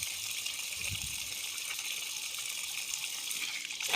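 Water runs from a tap in a steady, hissing gush, moderately loud and close, with no voices over it.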